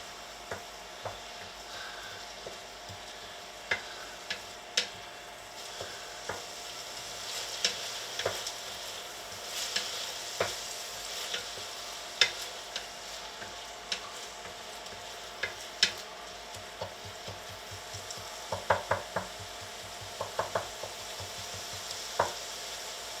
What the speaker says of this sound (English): So we use plating tongs to stir it real good.